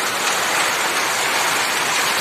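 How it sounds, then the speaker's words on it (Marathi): Heavy monsoon rain driven by strong gusty wind during a late-season downpour over farmland, a dense, steady roar with no break and no voices. "आणि पाऊस पण खूप मुसळधार पडतोय"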